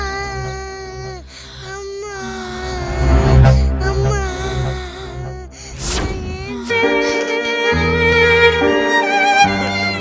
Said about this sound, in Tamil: என்ன குழந்தை அழுற சத்தம் கேக்குது